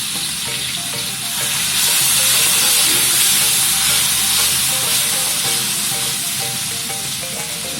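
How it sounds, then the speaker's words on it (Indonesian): Ground garlic and shallots sautéing in hot oil in a wok-style pan for tuna in tauco sauce, a loud close continuous sizzle with stirring scrapes, swelling briefly and then steady, with no talking. "yang pertama kita tumis adalah bawang putih yang sudah dihaluskan"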